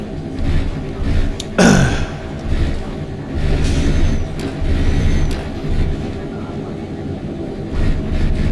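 A Mercedes-Benz truck engine in the Euro Truck Simulator 2 driving game hums as a steady, close, low drone, with a brief rising whoosh about a second and a half in.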